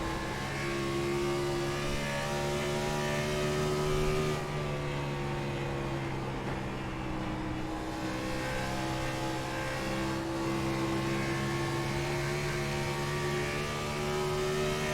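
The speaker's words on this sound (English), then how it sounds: "that car, we'll ride on board with them and see how it sounds." A loud, steady race car engine drones from onboard during a race at Dover, its strong harmonic tone holding a high pitch with slight dips and rises throughout.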